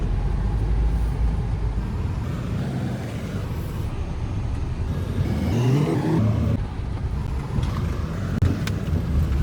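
A car drives slowly through an army canteen area and pulls in to park, its engine a low rumble under wind buffeting the microphone, rising and shifting as it manoeuvres.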